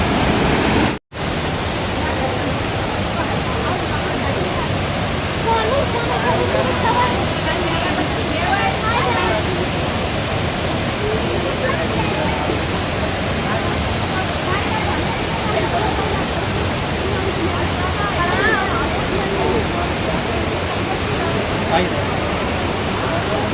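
Pandav Falls, a waterfall among limestone rocks, roars as a steady broadband wash of falling water, loud and close throughout, with faint voices beneath.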